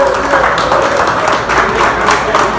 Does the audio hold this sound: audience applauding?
yes